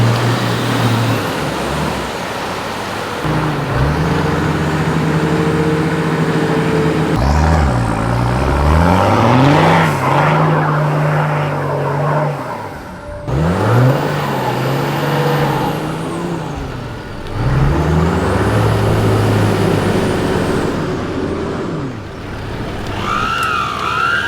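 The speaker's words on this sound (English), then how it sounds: "No good, the GQ is bogged in a bottomless pit of slush." A Nissan GQ Patrol revs hard while bogged in a deep, slushy mud hole, the engine loud and close, climbing and dropping in repeated surges with wheelspin noise between throttle bursts.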